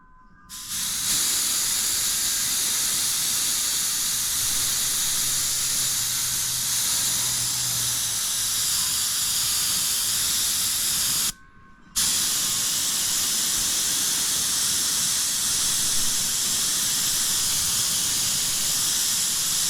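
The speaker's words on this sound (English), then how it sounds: "We'll wait till that compressor kicks off." An airbrush sprays paint in a steady, loud, close hiss that runs almost continuously, broken once by a short pause before resuming.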